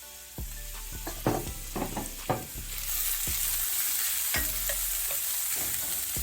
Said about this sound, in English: So this is gonna saute to put in the appetizer.